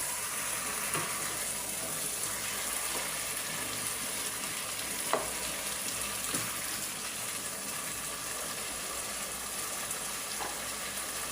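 Fried chicken pieces sizzle in a pot while being stirred, a continuous close frying hiss punctuated by occasional spoon scrapes and knocks against the pot.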